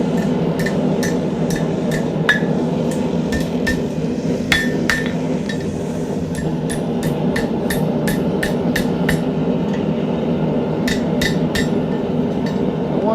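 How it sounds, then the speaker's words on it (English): A hot steel bookmark is hammered on the horn of a blacksmith's anvil, giving a long, irregular series of sharp ringing strikes over a steady forge roar. "bring it here to the horn of the anvil"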